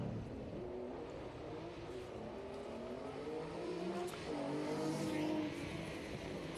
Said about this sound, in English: 5 litre Ford V8 in that Cobra, and that is a rocket machine. Just have a listen to it as it goes down through the straights.